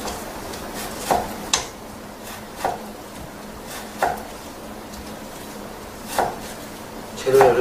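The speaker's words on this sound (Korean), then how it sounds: "채를 썰어서 준비를 해주시면 되겠습니다. 소고기를 썰어주시고" Knife cutting beef into thin strips on a cutting board in a Korean home kitchen, with sparse, separate sharp taps spaced a second or two apart over a soft background hiss.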